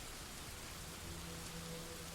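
Rain falling in Dwarf Fortress, a steady, soft, even hiss of downpour with no pauses, faint and continuous throughout.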